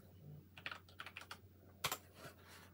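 Keys clack on an Astrohaus Alpha keyboard in a quiet room: a short burst of about six quick strokes, then a louder, heavier press near the end, close and clear over faint background hum.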